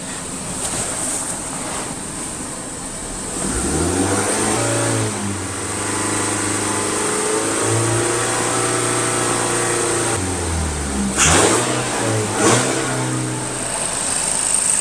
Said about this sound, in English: once you open the valve up, we need to give it high idle right away.